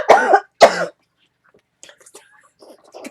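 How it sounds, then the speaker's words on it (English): Two sharp, loud coughs in quick succession, followed by quiet, scattered faint sounds. "So this coughing I'm doing,"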